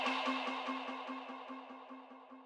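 A bright, unprocessed vocal "hey" sample from an upbeat pop production repeats in a steady, pulsing loop with full high end, sustained and fairly loud throughout.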